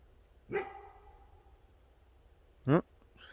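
A dog barks outdoors, two separate sharp barks about two seconds apart, fairly close and loud against a quiet background.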